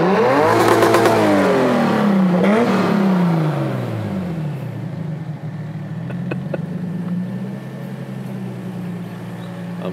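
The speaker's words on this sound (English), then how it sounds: "It sounds good. It's not very loud. No, it has a full exhaust, 3-inch. It's a Tanabe." Toyota Tacoma pickup with a 2JZ engine swap, turbocharged, breathing through a full 3-inch Tanabe exhaust, revving hard twice up close before dropping to a steady, moderately loud idle.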